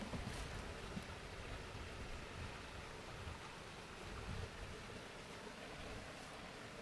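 Broadband rushing water from a stream running along a bank thick with Himalayan balsam shoots in April, a steady wash heard close and continuous, with some wind-like noise and no talking.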